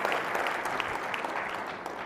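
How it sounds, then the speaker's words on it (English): A conference audience gives a steady round of applause, many hands clapping at an even, moderate loudness throughout the short stretch. "So a big round of applause for Enterprise Bank and Trust and Latchel."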